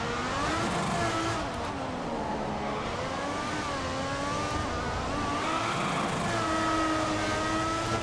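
An F1 car in the racing game F1 2014 at the Singapore race, its engine revving up and down in a continuous, loud, whining drone as it short-shifts through the gears, with slight pitch drops at each shift.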